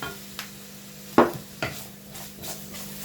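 Fried rice being stirred in a pan after a splash of soy sauce, with a few distinct scraping strokes of the utensil over a quiet low hum of frying.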